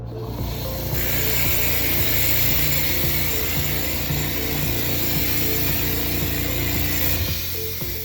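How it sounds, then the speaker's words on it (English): A TOMI SteraMist disinfection machine sprays in an office with desks, giving a continuous loud hissing, whirring rush with a steady hum underneath, running nearly unbroken for the whole stretch with no talk. "Notice how we're doing 5 to 7 second bursts of the machine."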